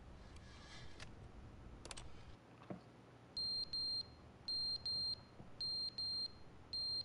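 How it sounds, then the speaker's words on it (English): A smoke alarm with a dying battery chirping in the game The Stanley Parable: repeated high, piercing electronic beeps in paired bursts, following faint rustling and clicks. "What is beeping? Oh, the smoke alarm died."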